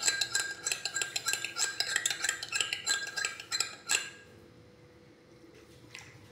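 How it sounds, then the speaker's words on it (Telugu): A spoon stirs wheatgrass powder into liquid in a cup, giving rapid, rhythmic clinking and scraping against the sides for about four seconds before stopping and leaving near silence. "ఇది ఇలా మంచిగా కలుపుకోవాలి ఉండలు లేకుండా."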